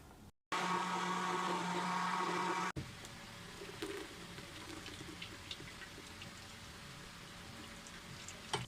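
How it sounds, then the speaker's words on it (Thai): A blender runs loudly and steadily for about two seconds, whirring soaked soybeans with water for homemade soy milk, then cuts off abruptly, leaving a quieter background of faint kitchen clatter. "อัตราส่วนในการปั่นนะคะ ในหนึ่งโถเนี่ยเราจะใส่ถั่ว เหลืองเนี่ยสองทัพพี น้ำอีกหนึ่งลิตรนะคะ"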